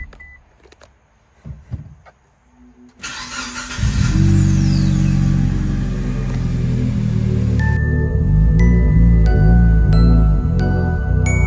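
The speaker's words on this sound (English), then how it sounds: "Finally, the moment has come. Let's take the Evo for a drive." A Mitsubishi Lancer Evo starting up after engine bay reassembly, with clicks and beeps before the engine catches, then a loud steady idle rumble with chimes and a revving pulse near the end.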